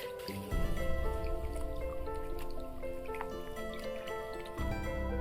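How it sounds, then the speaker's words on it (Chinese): Rabbit meat being rinsed with clean water in a kitchen, close trickling and dripping water with splashy squishing, fairly quiet, no talk. "用清水淘洗一下"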